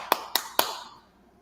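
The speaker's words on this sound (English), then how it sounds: "they had clapping in the background" A few sharp claps sound in the background of played-back preaching, three distinct hits spaced roughly a quarter second apart, moderately faint, with a short decaying tail after the last.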